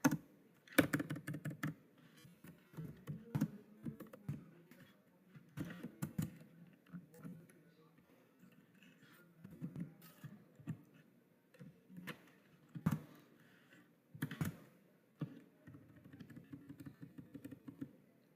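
Typing on a computer keyboard while entering details into Marg accounting software, with clusters of close, uneven key clicks and brief pauses between bursts throughout, no talking.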